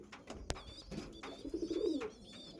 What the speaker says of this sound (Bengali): আজকে যেগুলো দেখাবো সব ব্রিডিং পায়রা আছে, সব আন্ধ্রা পায়রা দেখাবো।